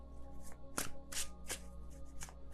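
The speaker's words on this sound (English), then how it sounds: "I can shuffle this deck" A deck of tarot cards being shuffled by hand, with repeated crisp riffling bursts and slaps in an uneven rhythm, close and fairly quiet, with no talking.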